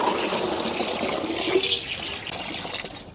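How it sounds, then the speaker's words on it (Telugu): Water left from washing rice and dal is poured into a container of water for watering plants, making a continuous splashing gush that swells briefly midway and then tapers off. No voices are heard. "ఇవి మార్నింగ్ బియ్యము పప్పు కడిగిన నీళ్ళు అనమాట సో ఇవి కూడా మొక్కలకి పోస్తున్నా కదా ఈ నీళ్ళలో కలిపేస్తున్నాను"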